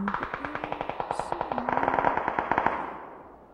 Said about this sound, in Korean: 총소리 이건.